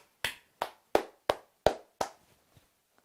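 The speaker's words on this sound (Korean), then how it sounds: "여러분 박수" Six sharp, evenly spaced hand claps from a single person, close and clear against silence during a live stream, followed by a couple of faint taps.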